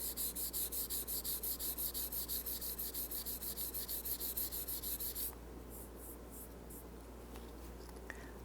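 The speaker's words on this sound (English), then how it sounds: "I'll take a couple swipes with the 800 grit sandpaper just wrapped around my fingers" Sanding a curved guitar finish by hand with 800 grit sandpaper wrapped around fingers, rapid rhythmic back-and-forth rasping strokes for about five seconds, close, then stopping into quiet handling noise.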